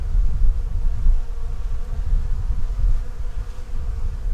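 Honeybees kept warm in the top box of a hive, checked after a storm, fill the air with a dense, steady low buzzing that stays close and loud throughout, with no voices.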